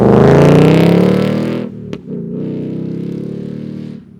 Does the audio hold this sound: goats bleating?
no